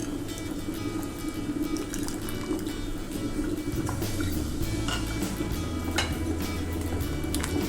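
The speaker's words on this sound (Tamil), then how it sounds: "கொஞ்சமாக கரைச்சி புளி தண்ணி ஊற்றிக்கலாம்." Dissolved tamarind water is poured into simmering homemade mutton dalsa, a soft liquid splash over a steady bubbling and sizzling from the pot, with small drips and pops throughout.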